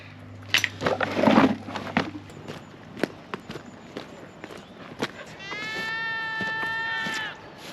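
Goats on a farm bleat in short, scattered calls at close range, with one long wavering bleat near the end, mixed with footsteps and movement in a morning setting.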